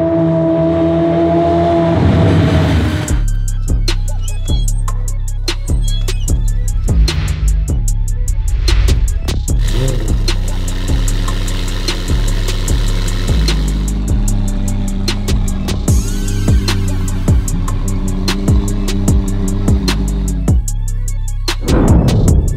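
A McLaren Senna supercar drives off with a loud, continuous engine note, revving and shifting through gears with sharp rises and drops in pitch, close and dominant throughout.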